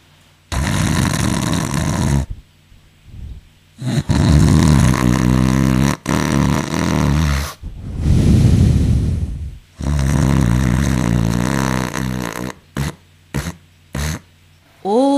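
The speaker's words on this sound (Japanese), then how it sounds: "大男が酔っ払って高いびきをかき始めた" A drunken giant snores loudly in deep sleep, with long, rumbling, throaty breaths repeating in slow cycles and short gaps between them, close and heavy.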